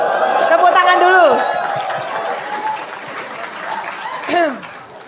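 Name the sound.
audience applauding at an event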